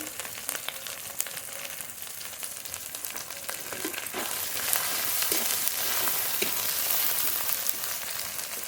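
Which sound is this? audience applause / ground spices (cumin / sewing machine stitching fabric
ground spices (cumin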